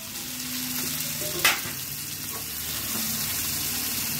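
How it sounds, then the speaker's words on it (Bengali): Cauliflower florets frying in hot spiced oil in a pan for a Bengali koi fish and cauliflower curry, a steady close sizzle with a brief louder burst as pieces hit the oil, no talk. "এখন এর মধ্যে কপিগুলো দিয়ে দেবো।"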